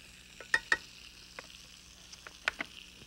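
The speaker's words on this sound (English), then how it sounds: "wait till the butter is hot and bubbling" Butter sizzles in a hot pan at about 275 to 300 degrees, a faint soft crackle broken by a few sharp pops and stirring clicks, with no talk.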